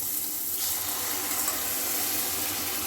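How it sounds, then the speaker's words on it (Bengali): Spice masala sizzling in oil in a pan, a continuous bright crackle that thickens after the first half second and stays steady and close throughout. "মশলাটা ভাজা ভাজা হয়ে গেছে, মশলা দিয়ে এবার তেল বেরিয়ে গেছে।"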